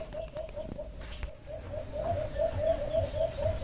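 A newly caught alimokon chick peeps close by in a steady, evenly spaced series of soft, rapid calls.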